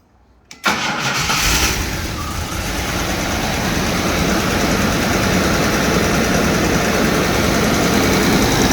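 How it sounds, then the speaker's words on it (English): A Jaguar car engine turns over and catches, then settles into a steady, even idle that runs on close by with no talking. "the engine idles a lot smoother than it used to"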